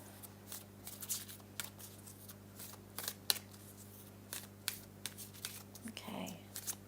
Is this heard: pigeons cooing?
no